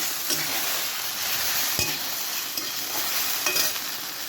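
Okra sizzles steadily as it is stirred and fried in a pan, with a continuous hiss broken by a few soft spatula scrapes and one sharp clink midway.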